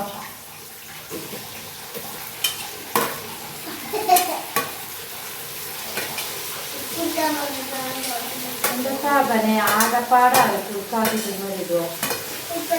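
Onion and tomato fry in a pan while being stirred, a soft sizzle with scraping and clinking at irregular moments, and people talk over it in the second half.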